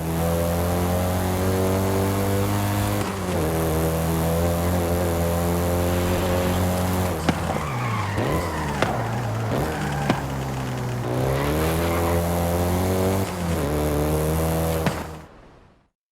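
A Volkswagen Golf GTI driving in Forza Horizon 5 gives a steady, loud engine drone. Its pitch sweeps up and down through rev changes and gear shifts midway, then the sound cuts off abruptly near the end, with no talking.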